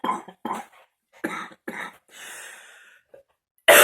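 One person coughs in a string of close, harsh bursts, several in quick succession, then a raspy wheezing breath and a final loud cough at the end.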